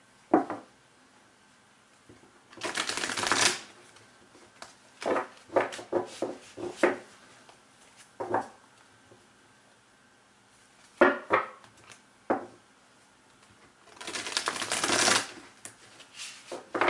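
Tarot cards are shuffled in several quick riffling bursts of crisp papery flutters, with longer shuffles at the start and end and softer taps and slaps between, close and otherwise quiet.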